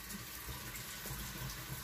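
Water from a tap or hand poured over chopped potatoes in a microwave cooker dish, a soft, steady close trickle and splash that runs throughout with no talking.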